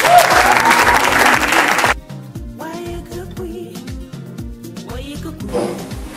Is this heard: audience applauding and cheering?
yes